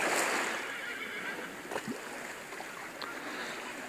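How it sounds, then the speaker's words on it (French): Horses neighing in an outdoor setting, a fairly faint whinny rising briefly out of steady broadband noise like running water or wind, with no talk. "Oui, ils se communiquent, les chevaux."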